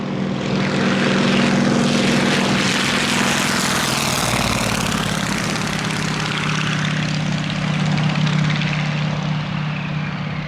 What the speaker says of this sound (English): This is the CJ6 military trainer.